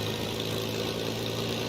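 A Spitfire MK1A engine idles in Microsoft Flight Simulator, a steady, even drone with a constant low hum and no variation throughout.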